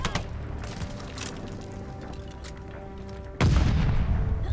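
Game gunfire in Call of Duty Vanguard, scattered distant shots crackling over a steady battle ambience, then a heavy close boom that jumps much louder and stays dense until the end.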